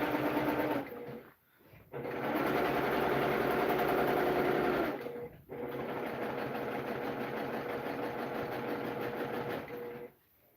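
A domestic sewing machine stitches in free motion quilting with a fast, steady mechanical whirr in three long runs, separated by two brief pauses, close and clear.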